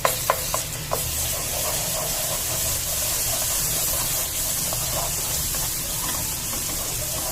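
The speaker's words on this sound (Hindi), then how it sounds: "थोड़ा सा इसको भून लेंगे जब तक कि अच्छी सी खुशबू आ जाए लहसुन की और अदरक की" Ginger-garlic paste frying in a pan for chicken kofta: a loud, steady sizzle and hiss, with a few soft clicks and pops near the start and no talking.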